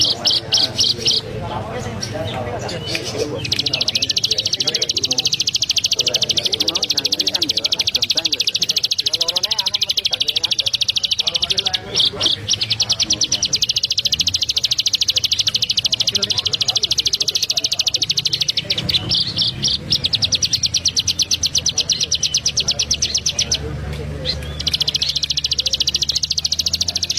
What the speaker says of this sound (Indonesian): enak banget kan suara ciblek gunung itu